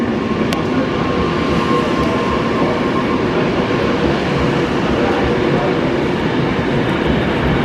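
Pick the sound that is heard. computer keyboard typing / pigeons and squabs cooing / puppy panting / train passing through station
train passing through station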